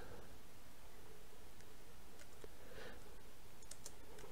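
Typing on a computer keyboard while entering a sum-of-numbers exercise, faint scattered key clicks and taps over a steady hiss, with no voice.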